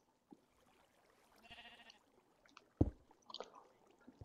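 A sheep in the video game Minecraft gives a short bleat, heard faintly amid sparse game noises and a sharp thump, with a quiet, mostly still background.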